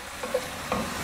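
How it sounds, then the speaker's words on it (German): Minced meat browning into crumbles in a Dutch oven, a brief low sizzle with a couple of soft stirring scrapes. "das Hackfleisch, das ist jetzt schön krümelig anbrauen"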